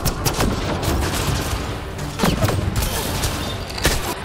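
Rapid gunfire in a Mass Effect Andromeda firefight, sharp repeated shots and bursts crackling continuously at close range, with no talk over them.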